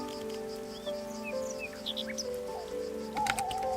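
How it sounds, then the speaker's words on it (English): Rain falling in a forest in the video game Moonlight Peaks, a soft steady patter beneath chirping birdsong and a sustained musical drone, fairly quiet. "I love how the forest sounds different when it's raining"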